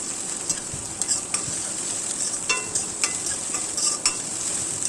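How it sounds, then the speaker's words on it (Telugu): Cut onions stirred into hot oil with green chillies, a steady bright sizzle with a series of light spatula clicks and scrapes, close-up and even, no one speaking. "తర్వాత కట్ చేసి పెట్టుకున్నటువంటి ఉల్లిపాయలను వేసుకొని కలుపుకోవాలి"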